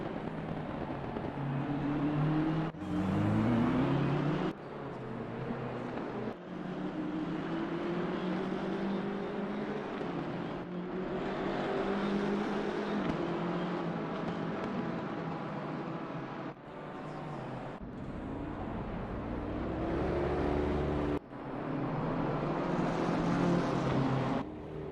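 BMW M4 race cars battling in an Assetto Corsa Competizione race, engines droning steadily with rising and falling pitch as they shift and pass, continuous and fairly loud throughout with no talk.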